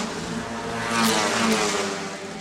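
A race car in the Indian National Car Racing Championship roars loudly down the main straight of the circuit, its engine note sustained and swelling as it passes close by, with no talk over it.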